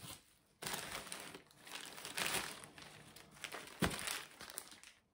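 Packing paper crumpled by hand while unboxing a vinyl box set, close crinkling and rustling in irregular bursts with no talking.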